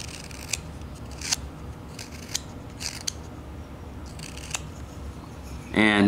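A knife carving a basswood cardinal's beak makes short, crisp scraping cuts, about eight spaced strokes, close and quiet, with brief talk at the very end.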